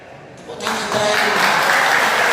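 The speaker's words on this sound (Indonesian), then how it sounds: "Tepuk tangan terakhir." Crowd applause at a Bhayangkara Cup community event in a sports hall, swelling from a quieter start into dense, sustained clapping that fills the room.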